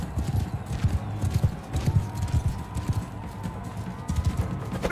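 Horse hooves in the Bannerlord medieval combat game pound in a rapid, uneven galloping rhythm, close and fairly loud, with a short neigh and combat noise mixed in.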